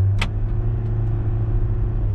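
A Nissan Versa engine at full throttle with a power-loss fault holds a steady, loud low drone throughout, with a brief hiss burst near the start; the car sounds strained, barely moving under hard acceleration.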